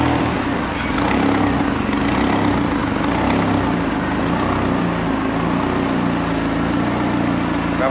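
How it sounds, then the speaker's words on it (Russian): A supercharged Mercedes-Benz M111-955 2-litre engine runs at a steady idle after starting, a low continuous rumble with a faint uneven pulse, close by and with no voices. "М111-955 компрессор. Запуск двигателя."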